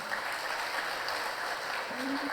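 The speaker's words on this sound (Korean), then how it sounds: "우리 박수하시겠습니다" Church congregation applauding during a Sunday worship service, a steady wash of clapping from many people that fills the whole stretch, with a brief low tone near the end.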